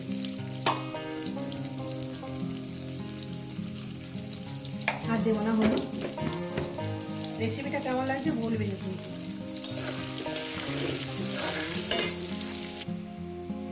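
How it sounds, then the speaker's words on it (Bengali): Potato pieces frying with a little turmeric in a pan, sizzling and scraped by a stirring spoon throughout, with background music playing and someone talking over it. "বন্ধুরা আলুটা এমনইভাবে ভাজবে ভাজার মধ্যে যাতে সিদ্ধ হয়ে যায়"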